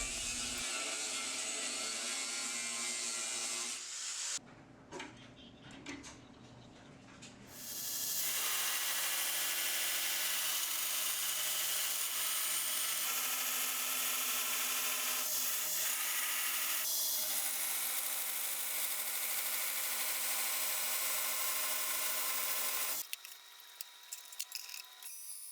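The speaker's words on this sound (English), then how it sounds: "now I'm using an angle grinder to cut it out" An angle grinder cuts a steel knife blade profile in long, loud, steady harsh bursts, with a short pause early on and a break near the end, close up and with no talking.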